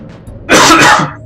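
A single loud, explosive cough bursts close into a microphone, harsh and breathy, rising sharply and fading within about half a second.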